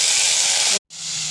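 Whole spices like ajwain seeds, cinnamon and cardamom hitting hot oil in a pan for a masala gravy, giving a loud steady hiss that cuts out briefly and then resumes.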